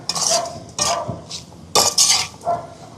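A spoon stirs chili powder and curry powder into chicken in a pot for Jaffna-style devilled chicken, making several short scraping and clinking strokes against the metal, close and fairly loud.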